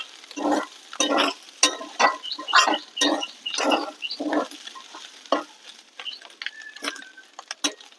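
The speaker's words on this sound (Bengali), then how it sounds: "এবার দিয়ে দেবো গরম মশলা। ভালো করে নেড়ে চেড়ে নেবো।" Chicken polao with garam masala being stirred in a pan, a series of distinct scraping strokes with a faint sizzle underneath, close and fairly loud, no talking.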